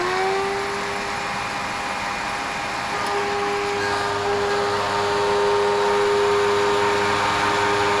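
A Eureka or Hoover upright vacuum cleaner runs close by with a loud, steady motor whine and hum that holds for the whole stretch, rising slightly toward the end.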